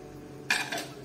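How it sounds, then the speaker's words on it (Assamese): A pressure cooker lid is opened after the cooker has cooled, with vegetable pulao cooked inside. Two short, close metallic clanks come about a quarter second apart against a quiet kitchen background. "কুকাৰটো ঠাণ্ডা হোৱাৰ পিছত ঢাকনটো খুলিব"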